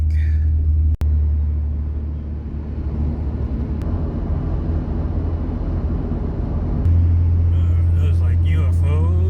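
A car on a long road drive, a steady close engine and road rumble that holds throughout with a slight rise near the end, while a person talks over it.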